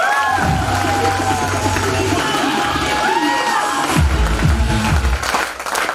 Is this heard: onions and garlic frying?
no